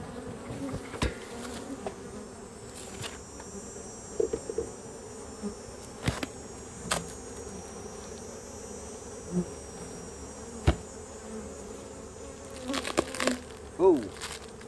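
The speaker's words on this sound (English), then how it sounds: "Still a lot of bees in here." A steady insect drone of many bees fills the space close by, with occasional soft knocks and brief clicks over the buzzing.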